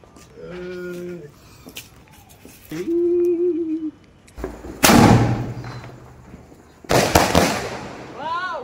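Two sharp, loud bursts of Diwali firecrackers about two seconds apart, each a broadband crack with a brief tail, between stretches of voices.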